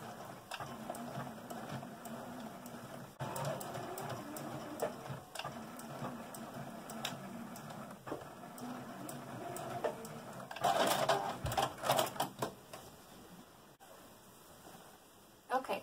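A sewing machine runs along the casing edge of a drawstring bag, its steady mechanical whir and ticking continuing through the clip, with a fuller burst near the end and a person talking over it.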